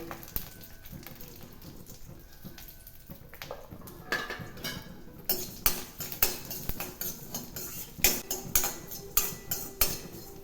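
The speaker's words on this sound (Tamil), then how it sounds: "இதே எண்ணெயில் நம்ம எடுத்து வச்சிருக்கிற தனியா" Coriander seeds roasting in oil in a pan, with steady crackling and a run of sharp metallic scrapes and taps from stirring that grow louder and more rhythmic toward the end.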